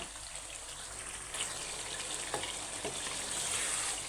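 Beef with a packet of Radhuni biryani masala cooks over the fire, a steady close bubbling sizzle with a few soft stirring knocks and scrapes.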